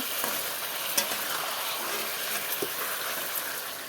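Fish sizzles and crackles in hot oil, a steady close-up fry with occasional small pops.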